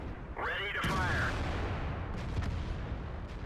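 A Foch tank destroyer's gun fires in a tank battle video game, one sharp boom followed by a lingering rumble and a rising whine, with a voice talking over it.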